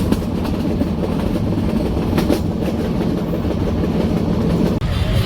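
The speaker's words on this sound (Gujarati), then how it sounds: "ત્યાં ટ્રેન તો આ ફૂલ થઈ ગઈ છે ને હાલતી થઈ છે વિસાવદરના સ્ટેશનમાંથી" A passenger train pulling out of Visavadar station on the way to Junagadh, heard from on board as a steady, loud rumble with faint wheel clatter and a sharp click near the end; no talk.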